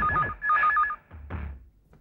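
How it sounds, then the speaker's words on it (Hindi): A telephone rings with a warbling electronic tone in two bursts, then a low thud and some muffled background noise. "लग रहा है फोन लग रहा है क्या?"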